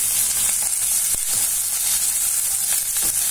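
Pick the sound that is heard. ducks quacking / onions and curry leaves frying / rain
onions and curry leaves frying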